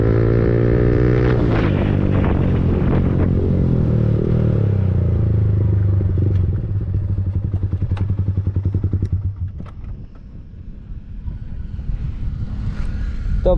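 A Yamaha MT15 motorcycle with an Akrapovic exhaust runs in fifth gear at around 127 km/h top speed, a loud steady engine drone with wind rush that drops off and shifts midway before settling again.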